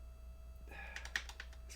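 Quick taps and clacks of fingers typing on the small keys of a Famicom BASIC keyboard, close and faint, starting after a moment of steady hum and running on in an uneven rhythm.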